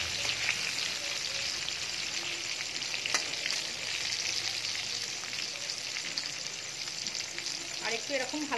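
Pointed gourd pieces frying in oil in a pan, a continuous loud crackling sizzle with occasional stirring scrapes and a person talking briefly beneath the hiss.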